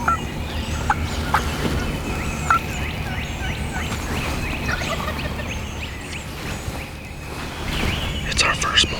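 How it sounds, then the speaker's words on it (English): Wild turkeys gobble on a spring morning in Georgia, several distant calls bursting out at intervals over a steady outdoor hum, with faint birdsong around them. "we got turkeys gobbling all around us"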